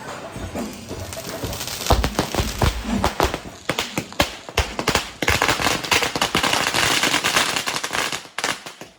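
Church festival fireworks bursting during a procession, a long run of loud, rapid, irregular explosive cracks and bangs at mid distance, with some dense crackling volleys and no clear talk.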